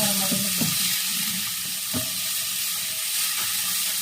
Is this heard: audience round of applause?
no